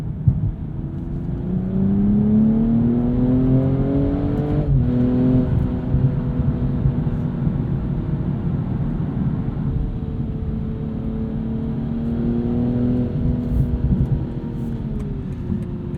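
A 2022 BMW M240i xDrive coupe drives from inside the cabin, its engine droning and rising through gears with a shift mid-run, a smooth steady hum under road noise, no talking.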